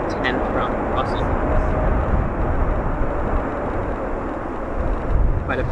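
A United Airlines Boeing 787-10 at O'Hare International Airport gives a loud, steady jet roar and rumble across the whole stretch, with faint voices now and then.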